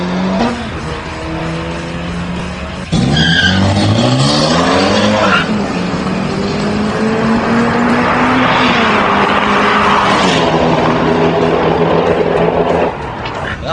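A twin-turbo Hyundai Tiburon drag races on street tires, engine roaring loud and close with rising gear pulls and tire spin, and a voice heard faintly beneath the noise.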